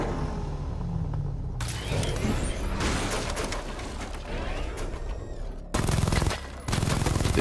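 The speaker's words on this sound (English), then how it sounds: "The chain gun's not powerful enough." Batman: Arkham Knight chain gun fire comes as rattling bursts of rapid shots amid mechanical whirring and game effects, broken by brief pauses, with a louder closing burst that cuts out and resumes.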